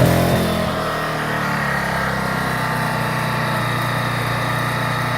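A 2kW four-stroke petrol inverter generator runs at a steady hum from about 1.5 metres away, its engine note settling after a brief initial surge, with no talk.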